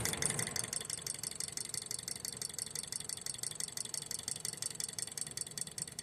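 A Stirling engine fitted with an added RPM-control valve turns over at very low speed, giving a steady, rapid mechanical clatter of repeated ticks and rattles, close and even throughout with no talking.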